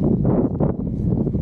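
Heavy wind buffeting the microphone in a steady low roar, loud and continuous with no clear pauses.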